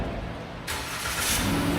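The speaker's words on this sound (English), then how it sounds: "we'll start it up and just see if we have any rattling or loud noises coming from the exhaust" A van engine starts and revs up during an exhaust check, the broadband engine roar rising sharply partway through and holding steady, close and loud with no talk.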